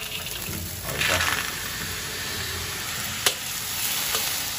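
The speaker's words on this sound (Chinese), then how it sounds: "这个黄豆弄好水了就炒，放在那里炒，炒一下" Soybeans stir-fried in a pan over the fire, a steady dense sizzle and crackle with a few scraping stirs and one sharp clack, close by and continuous throughout.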